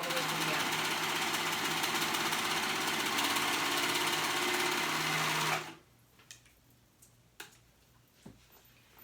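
Sewing machine running fast and loud, stitching a stretched band through three layers onto a ruffled back top, then stopping abruptly with a few light clicks and handling noises afterward.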